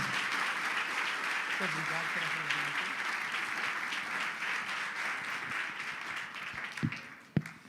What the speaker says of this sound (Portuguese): gostaria que você desse um aplauso a Jesus